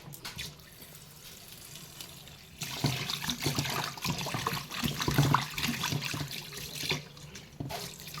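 Salted rita fish is rinsed under running tap water. A soft trickle gives way after a few seconds to a louder, uneven splashing stream with brief dips, close by and with no talk.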